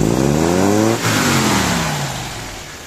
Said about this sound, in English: And so how does it accelerate?